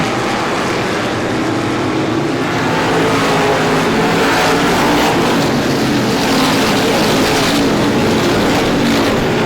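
Supermodified race cars roaring off at a green-flag start during the 51st Star Classic, a loud, dense blend of several high-revving engines droning and howling continuously as the pack passes close by.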